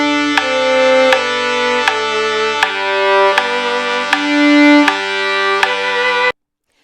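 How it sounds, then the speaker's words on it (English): Sustained harmony drones for violin intonation practice on a Wohlfahrt Op. 74 No. 30 etude, shifting chords every couple of seconds under sharp, evenly spaced metronome clicks marking eighth notes, steady and clear with no voices. "So what I did is I produced drones that match the harmony of the arpeggios in your piece"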